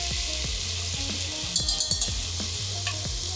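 Smoked paprika sizzling in hot olive oil with onion and garlic for a smoky carrot soup, a loud, close frying hiss broken by repeated utensil taps and clinks against the pot.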